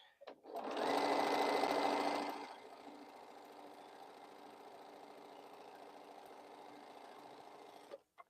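A sewing machine stitches the last piece onto a Boho Heart quilt block. It runs in one steady close run, loudest for the first couple of seconds, then carries on at a softer, even pace until it stops.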